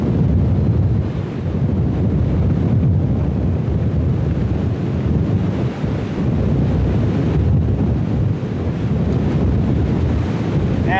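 Storm wind buffets the microphone outdoors, a loud, continuous rumbling roar with gusty surges and dips throughout, no voices heard.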